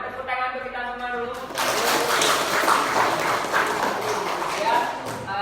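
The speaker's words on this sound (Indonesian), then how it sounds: "Tepuk tangan untuk kita semua dulu." A classroom of students breaks into broad, sustained applause after a short stretch of a teacher's voice, the clapping filling the room at close range until the end.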